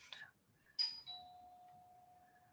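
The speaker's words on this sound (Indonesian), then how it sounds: "sorry tadi ada bel." A doorbell chimes quietly in the background indoors: a brief burst, then a ding and a sustained ringing tone that fades slowly, with no talk over it.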